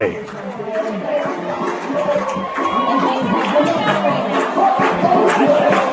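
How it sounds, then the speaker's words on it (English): A football crowd at a Camdenton Lakers vs. Helias high school game roars and cheers after a big play, a loud swelling wash of voices under an announcer's commentary. "this crowd just lit up"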